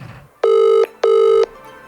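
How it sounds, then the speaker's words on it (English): A telephone rings in two loud, clear electronic bursts of even length separated by a short gap, close and alone with no talking over it. "What are you keep ringing me for?"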